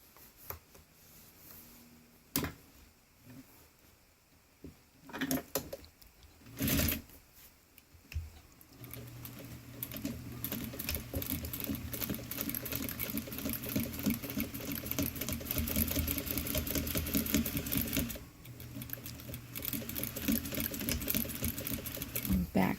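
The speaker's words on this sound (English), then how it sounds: "sew it at 1/4 inch." A sewing machine stitches a quarter-inch seam on fabric while a bifold wallet is being finished. After a few sharp clicks, a steady close whirring hum runs continuously with a short pause, with someone speaking before it starts.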